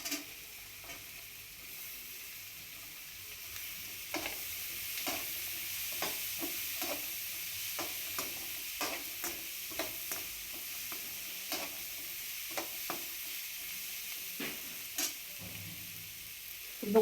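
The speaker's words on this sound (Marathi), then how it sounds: "मटर आणि गाजर टाकून घेऊया." Peas and carrots fry in a pan for a paneer pulao, with a soft steady sizzle under repeated scraping taps as they are stirred, fairly quiet and close.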